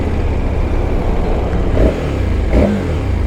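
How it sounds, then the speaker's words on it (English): The V-twin engine of a KTM 1290 Super Adventure S motorcycle rumbles loud and close, punctuated by two quick throttle blips that surge and drop back. "Classic V-twin, man."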